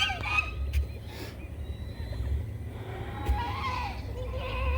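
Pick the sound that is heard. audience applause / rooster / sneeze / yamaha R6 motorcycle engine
rooster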